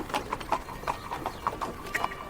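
Hooves of two white horses pulling a carriage clip-clop through the streets as a sound effect, a steady trotting rhythm of close, crisp knocks with no voices.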